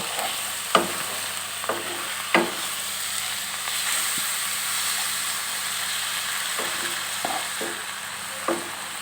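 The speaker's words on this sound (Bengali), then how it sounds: "এবারে সব মশলাগুলো তেলে নাড়িয়ে একটু কষিয়ে নেব" Ground spices and chilli paste frying in oil for chicken kosha, a constant hiss of sizzling with several sharp spatula scrapes as the mix is stirred, loud and near, with no talking.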